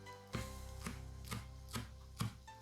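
A knife chops fresh parsley and green onion on a cutting board, five crisp, evenly spaced thuds over a steady low background hum.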